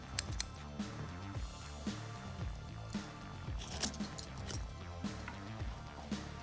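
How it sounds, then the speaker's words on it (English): Repeated crisp snips of sharp scissors cutting through carpet, faint and close, in a steady irregular rhythm over a soft background. "Sharp pair of scissors, very important"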